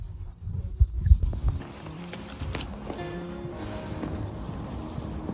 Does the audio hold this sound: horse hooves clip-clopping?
yes